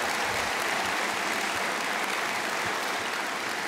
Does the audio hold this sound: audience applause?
yes